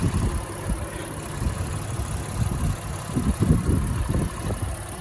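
A 2019 Honda Ridgeline all-wheel drive pickup idles steadily up close, a smooth, low rumble with no voices over it.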